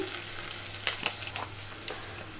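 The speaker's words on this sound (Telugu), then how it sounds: "కొంచెం అల్లం వెల్లుల్లి వేగనిస్తున్నాను ముందుగానే." Ginger, garlic and curry leaves fry in hot oil with spices for a boondi curry, giving a soft steady sizzle with a few sharper crackles and pops, close and alone.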